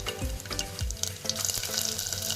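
Mustard seeds and cumin splutter and crackle in hot oil in a kitchen pan, a busy run of small pops and sizzles at moderate level, heard close with no talking.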